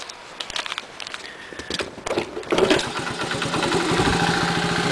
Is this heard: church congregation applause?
no